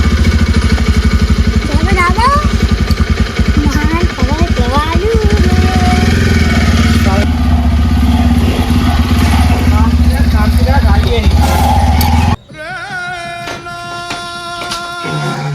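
A motorcycle engine idles loudly nearby with a rapid throbbing rhythm while people talk over it, then the engine note changes abruptly near the end.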